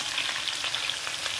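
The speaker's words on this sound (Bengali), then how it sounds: "দেখো পটলটা মোটামুটি ভাজা হয়ে গেছে" Pointed gourd, potato and ridge gourd frying in a pan, a steady close dense sizzle that holds evenly throughout with no pauses.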